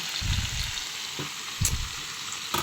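Chicken adobo frying in a small amount of oil, with a steady sizzle and a few louder crackling spurts and spatters.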